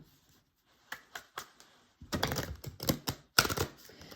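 Soft papery taps and flutters, then a denser burst of riffling and shuffling oracle cards, close and quiet.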